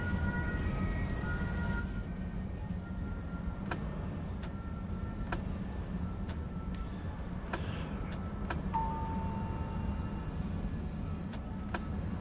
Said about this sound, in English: The little bell means somebody's wanted to get off